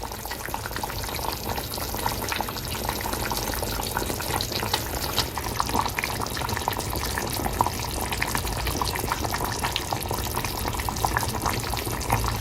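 Steady, close bubbling of a cauliflower dish boiling in a covered pot on the stove, an even simmer throughout with no talking.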